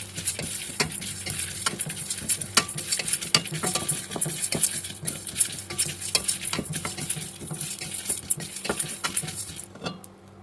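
Dal, peppercorns, cumin, coriander seeds and five dried red chillies are stirred and roasted in a pan for bitter gourd curry, with steady scraping and rattling of a spoon against metal over a faint sizzle, sounding close and continuous with no talking.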